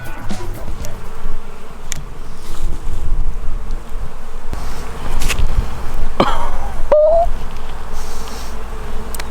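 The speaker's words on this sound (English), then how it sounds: "there is millions of bees and wasps" Steady buzzing of bees and wasps fills the air outdoors near a lavender field in New Zealand, a dense hum with a few louder passes close by.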